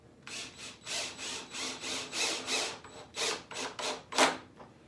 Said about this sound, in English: You're drilling into end grain, so the screws don't need much help.